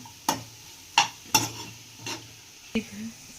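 Curry leaves crackle in hot oil while prawns are fried hotel style, with a handful of sharp, close taps like a spatula on the pan and a faint sizzle beneath.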